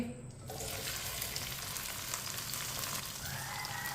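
Cut okra pieces dropped into hot oil, a sudden burst of frying that settles into a steady, close crackling sizzle for several seconds, with no talking.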